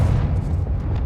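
A Confringo blasting spell detonates in Hogwarts Legacy as one deep, rumbling boom that fills the whole short moment, close and loud with no voices.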